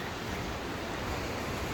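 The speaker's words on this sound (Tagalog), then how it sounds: "Maalon pa. Sobrang alon. High tide." Heavy surf at high tide breaking on a white-sand beach, a steady loud wash of churning water with wind across the microphone and no voices.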